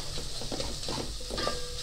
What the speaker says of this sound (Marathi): सुकं खोबरं आणि लसणाची पेस्ट आहे ती आता मी खरपूस भाजून घेणार आहे तेलामध्ये.